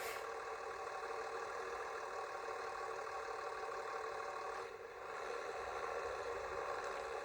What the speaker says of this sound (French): J'ai du mal au tracteur.